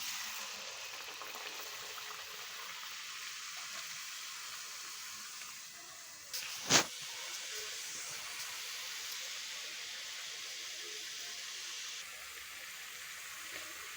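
Telangana chekkalu batter frying in hot oil gives a constant soft hiss and bubble throughout, broken once by a single sharp clack midway, with no voices.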